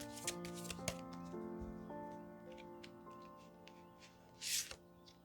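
Tarot cards are shuffled and drawn up close, with soft riffling and a few sharp snaps and flicks over quiet background music, ending in a brief louder swish.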